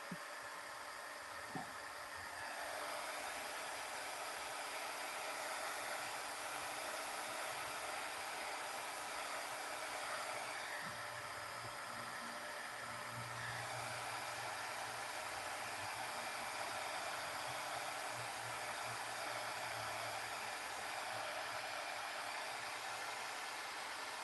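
Heat tool blowing hot air over craft pieces, a steady loud hiss that runs without a break, with a faint click near the start and a low hum shifting underneath.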